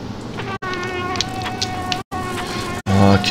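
A fly in the Limbo video game buzzes close and steadily, its whining drone cut by three short silent gaps and swelling louder at the very end.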